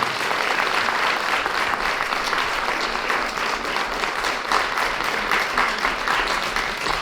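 Audience applause at an award ceremony for regional winners of the Order of Saint Panteleimon in Ternopil, a continuous, even round of clapping from a sizable crowd throughout.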